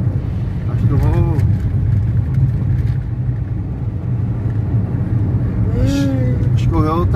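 A Fiat Palio 1.0 car engine gives a low, steady rumble from inside the cabin as it speeds up to overtake, with road noise throughout and people talking over it.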